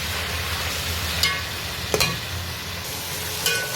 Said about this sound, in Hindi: अब हम इसको अच्छी तरह भूनेंगे।